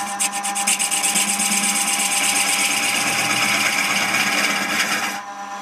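Lathe tool hollowing a wooden ball, a loud continuous scraping rasp of the cutter against spinning wood, close and steady for about five seconds before it stops abruptly.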